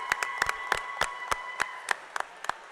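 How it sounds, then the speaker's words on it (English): A small audience at a city council meeting applauds the 5- and 6-year-old Lady Vaqueros T-ball champions, just a few scattered, sharp hand claps, irregular and sparse, fading toward the end. "Let's give them a round of applause."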